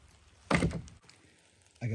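A wood-handled splitting tool on a white oak handle strikes a big firewood round, one heavy thunk with a brief split, followed by quiet and a second impact starting at the end.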